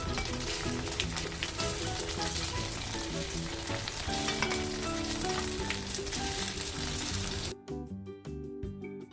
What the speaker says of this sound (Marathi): आता सगळ्याचा खांडव्या आपण बनवलेल्या ह्या फोडणीमध्ये सोडूया आणि छान असं मिक्स करून घेऊया आपण